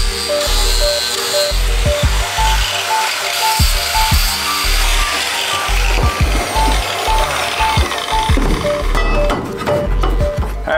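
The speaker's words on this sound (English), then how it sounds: "going to use the flappy disc to clean off the paint and the surface so that the welds stick and take to the metal" An angle grinder fitted with a flap disc grinding paint off metal before welding, part of a school bus bathroom window conversion; a loud, steady motor whine runs throughout, broken by repeated rattling bursts as the disc bites.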